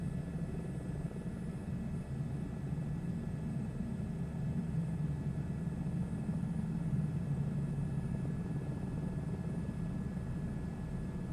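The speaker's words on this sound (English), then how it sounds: "And this helicopter is loud." A helicopter engine runs at full throttle in a flight simulator game, a steady low drone with faint high whine lines, continuous and unchanging at moderate level, no voices.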